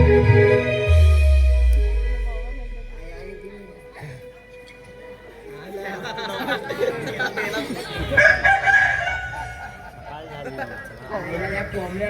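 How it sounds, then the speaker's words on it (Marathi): A rooster crows loudly and close at the start, followed by people talking and background music from a traditional Marathi folk theatre performance. "या कोंबड्याला जरा थांबला असता तर झोप पूर्ण झाली असती."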